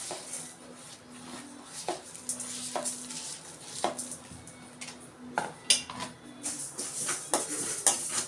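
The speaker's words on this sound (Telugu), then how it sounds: "నువ్వులు కొంచెం వేడవ్వాలండి" Sesame seeds roast in a hot pan while a utensil stirs them, making repeated metallic clinks and scrapes over a faint, continuous sizzle. No one speaks.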